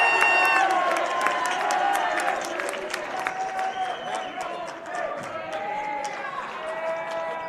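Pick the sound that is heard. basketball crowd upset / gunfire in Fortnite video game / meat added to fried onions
basketball crowd upset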